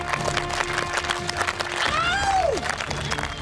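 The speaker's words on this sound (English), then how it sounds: "It's like, oh my God, people are cheering for me." Studio audience on The Biggest Loser applauding and cheering as a contestant comes out, a steady patter of clapping with scattered whoops and a rising shout over a tonal music bed.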